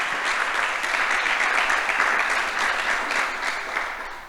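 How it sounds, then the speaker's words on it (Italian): Audience applause welcoming a speaker at a public event in the Veneto region, dense steady clapping from a crowd, close and loud, tapering slightly at the end. "alla consigliera regionale Elisa Cavinato, che però accogliamo con un applauso perché merita veramente."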